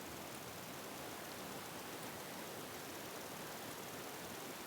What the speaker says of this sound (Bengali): তারপর আমি দিয়ে দিচ্ছি মোটা মোটা কেটে রাখা করলা। এটাকে একটু ভেজে নিব।